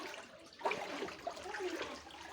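Floodwater rushing and splashing steadily along a road near a house, with a few louder sloshing surges over a continuous flowing wash.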